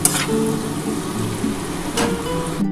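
Onion sizzles steadily in hot oil for a mutton and potato curry, a dense, even crackle with a few brief louder spits, close and alone.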